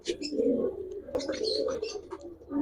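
Giribaj pigeons in a loft coo nearby in soft, rolling, low calls that repeat continuously. A few brief sharper rustles and chirps sound in the background.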